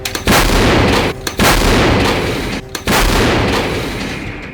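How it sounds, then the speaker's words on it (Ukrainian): Ukrainian Bohdana self-propelled long-range artillery fires at close range, several massive booming blasts with long roaring tails that fill the air. "Постріл!"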